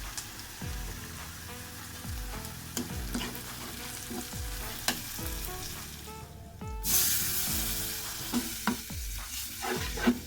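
Prawns frying in a pan with salt, turmeric and chili powder for a mango and prawn curry, sizzling steadily while a spoon scrapes and stirs in repeated strokes, close and without speech.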